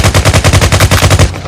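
Rapid automatic gunfire from the VR shooter Firezone on Meta Quest 2: about a dozen loud, evenly spaced shots in quick succession, close and punchy, with no talk.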